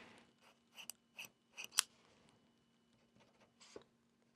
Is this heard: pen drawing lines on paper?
yes